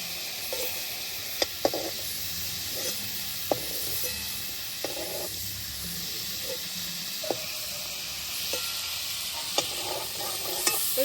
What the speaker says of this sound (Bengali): এরকম কয়েকবার চিংড়ি দিয়ে এরকম নাড়িয়ে চাড়িয়ে, খুব বেশি ভাজলে চিংড়ি মাছ শুকিয়ে যায়।